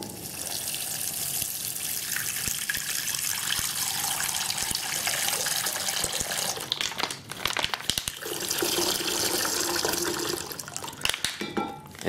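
A steady, close trickle of water squeezed from a Sawyer Squeeze filter runs into a container, with the pitch shifting as it fills and a few brief breaks near the end.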